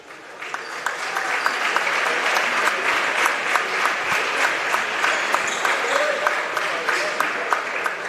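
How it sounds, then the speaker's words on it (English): Steady, sustained clapping from a crowd at a men's college basketball game, honoring the seniors, with dense, even applause throughout and no clear talking. "One more round of applause for our seniors."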